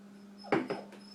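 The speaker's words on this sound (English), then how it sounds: "you're not my dog crying about nothing" A dog whimpers indoors, two or three short soft whining cries in quick succession over a steady low hum, faint and close.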